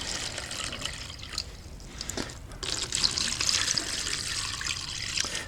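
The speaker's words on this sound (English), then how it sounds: "Put it in here and we are going to submerge them in water." Padlocks are submerged in a container of water, giving a close, continuous trickling and sloshing with small splashes and drips, steady throughout and slightly busier toward the end.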